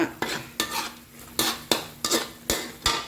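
Chili paste stir-fried in a pot for a pork bone and bamboo shoot coconut curry, heard as a utensil scraping and clacking against the pot in regular strokes, about eight over three seconds, close and fairly loud with no talk.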